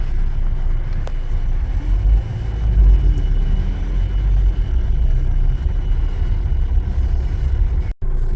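A taxi car pulls away from a petrol station, a loud steady engine rumble with road noise building and holding close throughout, then cutting off abruptly near the end.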